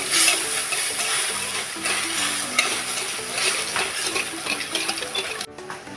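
Sugar and water stirred in a kadai, a continuous scraping, swishing stir with faint bubbling and a few utensil knocks against the pan, close and fairly loud.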